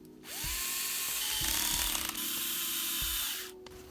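A powered screwdriver whirs for about three seconds, close and steady, driving a screw into an RWD conversion part from a T3M-spec kit, with a brief click as it starts and stops.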